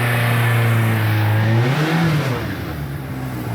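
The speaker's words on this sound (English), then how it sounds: "Rev her up" An Mazda MX-5 engine revs up steadily toward 2800 RPM, pitch climbing and then easing back, loud and close with a constant whirring roar and no talking.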